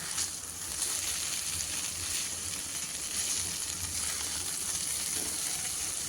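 Mourala fish kadai paturi with potatoes sizzling and frying in a pan, a steady close hiss with soft bubbling that carries on evenly throughout, with no voices.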